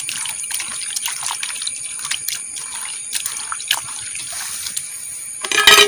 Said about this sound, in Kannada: ಈಗ ನಾನು ಎರಡನೇ ಬಾರಿ ನೀರು ಹಾಕಿ ಈ ಹಾಗಲಕಾಯಿ ಹೊಲಗಳನ್ನು ಹಿಂಡಿಕೊಳ್ತಿದ್ದೇನೆ